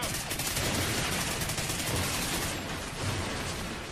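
Dense gunfire and explosions in the Call of Duty Ghosts video game, a loud unbroken barrage of shots and blasts with no pauses, no speech.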